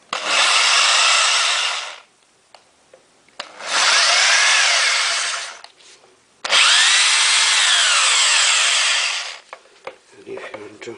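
A Boray hammer drill running in hammer mode: three loud, harsh bursts of roughly two to three seconds each, with a brief quieter pause between them, close up and with no talk.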